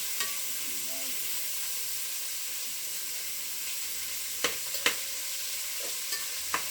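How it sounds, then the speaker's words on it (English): Creole chili ingredients browning in a hot pan give a steady, low sizzle throughout, with a few sharp clinks of a utensil against the pan near the end. "I'm going to let that just kind of brown and heat up a little bit."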